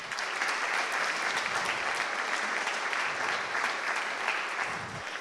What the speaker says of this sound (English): So let's have a round of applause for Steve.